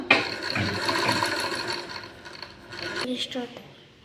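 Sewing machine stitching fabric piping, a fast mechanical whir of the needle running for about two seconds, then a pause and a few shorter bursts and clicks.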